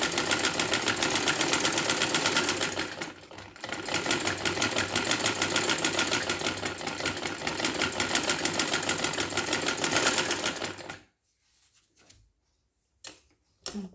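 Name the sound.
sewing machine stitching a neckline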